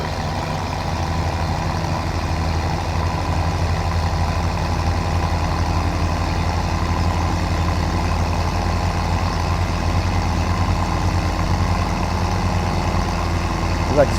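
A tractor engine in the farming video game Farming Simulator 17 gives a steady, low, rumbling drone that holds at an even level for the whole stretch without rising or falling.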